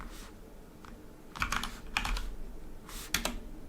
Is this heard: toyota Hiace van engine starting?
no